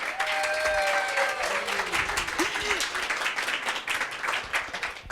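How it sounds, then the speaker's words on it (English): An audience bursts into sustained applause and cheering at a climate leadership event, loud and dense from the start and tapering slightly toward the end, with voices audible over the clapping. "thank you so much for cheering for this."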